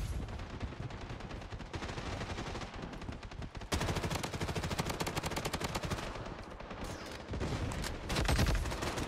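Rapid, relentless shotgun and automatic gunfire in the game Bloodstrike on the Shutter Island map, a loud continuous barrage of close shots that intensifies partway through and keeps going without pause.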